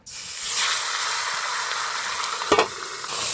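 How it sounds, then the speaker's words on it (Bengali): Katla fish head frying in hot oil for a prawn and greens curry: a steady, loud sizzling hiss throughout, with a brief sharper crackle burst near the end. "চিংড়ি শাক তরকারির জন্য কাতলা মাছের মাথাটা ভেজে নিব।"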